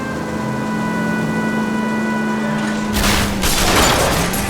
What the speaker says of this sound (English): Put on the siren.